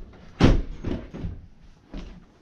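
An odd-sized old door in an abandoned ranch building knocks and bumps several times at close range, one loud thud followed by softer clunks.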